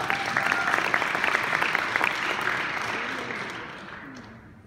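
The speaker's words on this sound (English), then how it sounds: "Clap for that one" Convention audience applauding loudly with dense, steady clapping that gradually fades toward the end; a few voices mix into the crowd noise.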